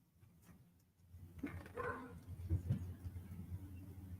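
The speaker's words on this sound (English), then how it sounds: "We have a bad dog as usual." A dog gives a few soft, distant barks and whimpers indoors beside a fireplace, faint and irregular against a quiet background.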